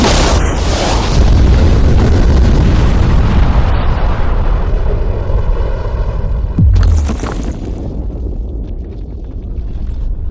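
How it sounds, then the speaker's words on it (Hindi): A huge explosion blows up a safe: a massive, loud boom at the start gives way to a long rumbling tail, and a second heavy thump comes several seconds later before the sound fades. "लेकिन ये एक असली धमाका है"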